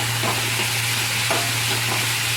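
Banana flower curry with green chillies frying in a pan, a steady close sizzle with soft stirring scrapes, no voices.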